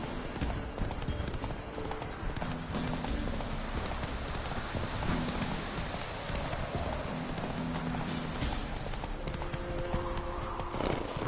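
Roach, the horse in The Witcher 3 video game, galloping with a fast, steady clip-clop of hooves that stays close and loud across the whole stretch, over a dense outdoor background with a brief snort or whinny.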